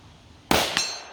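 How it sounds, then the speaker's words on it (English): An SVT-40 rifle shot fired at 100 yards strikes a 10-inch steel disc, giving a sharp metallic clang followed by a second ringing hit that fades quickly, with no voices. "we're gonna shoot the 10-inch disc down here at 100 yards"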